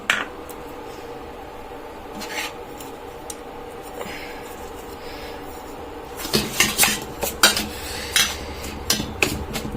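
Semolina, flour, sugar and rice flour being stirred together in a metal pot, sparse spoon taps and scrapes at first, then a burst of sharp repeated clanks and clatter against the pot near the end.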